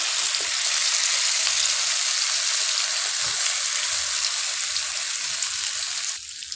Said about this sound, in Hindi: ये बैटर जो हमने बना के रखा है इसको हम हाफ डालेंगे